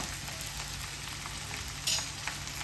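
Chopped medium onions hitting a pan of softened bitter gourd, frying with a steady close sizzle and crackle, plus a brief stir or clink partway through, no voices.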